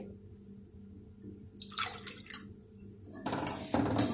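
A cup of vinegar poured into a homemade tomato ketchup mixture, heard as short splashy pours and drips that come in two bursts over a quiet background, close and fairly soft.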